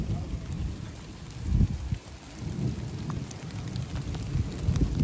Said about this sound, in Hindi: और बारिश हुई,